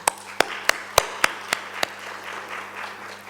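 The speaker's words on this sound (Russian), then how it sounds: "Я предлагаю просто аплодисментами поздравить друг друга вот эти важные события." Sparse, scattered clapping from a small gathering at a local history meeting: about seven distinct, separated claps in an uneven rhythm, fairly close, then fading into quiet room noise.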